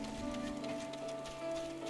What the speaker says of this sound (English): it's like it's always raining in Gridania